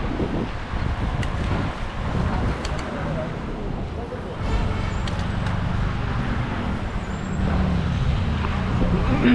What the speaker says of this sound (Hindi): ट्रैफिक जाम हुई है आज तो।